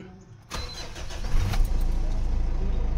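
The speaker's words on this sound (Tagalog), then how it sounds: "engine start" A car engine cranks and catches after a brief quiet moment, then settles into a steady, close idle rumble.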